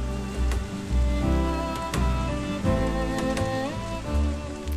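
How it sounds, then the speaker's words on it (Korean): Rain falls on a city street in the Dapsimni area on a wet day, heard as a steady patter under a layer of harmonic music that carries on throughout. "비가 내리는 날 빗소리를 즐기며 도시동 쪽 답심리 거리를 걸어봅니다."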